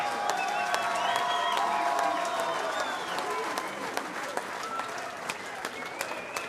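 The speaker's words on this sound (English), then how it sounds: "how about a fine round of applause for both of these warriors?" A boxing crowd applauds both fighters after a bout, steady clapping from many hands that swells briefly and then thins to scattered claps, heard at a moderate distance in a ballroom venue.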